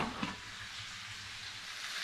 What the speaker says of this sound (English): So the chicken is sizzling away just fine.